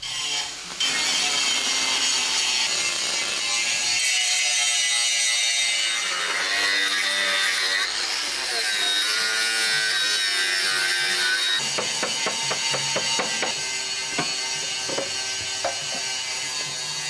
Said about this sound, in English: While Jono starts grinding back some of the old weld